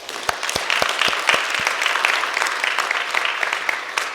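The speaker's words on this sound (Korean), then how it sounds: "다시 한번 박수하겠습니다" A church congregation applauds at a Christmas worship service, a few sharp distinct claps at first, then a sustained even wash of many hands, moderately loud and alone.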